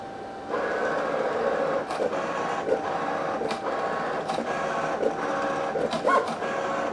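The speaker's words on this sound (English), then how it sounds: "The machine will take a minute to think, and then it will start cutting." A Cricut Venture cutting machine slices through iron-on vinyl with a steady mechanical whir, punctuated by brief clicks and shifts as the carriage moves, running continuously at close range with no talking.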